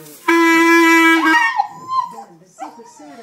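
A dog howls along with a clarinet: a long sustained reed tone sounds first, then the dog's wavering howls rise and fall over it, close and loud, with a short yip near the end.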